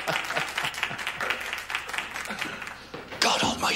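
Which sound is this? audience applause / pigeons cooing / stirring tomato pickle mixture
audience applause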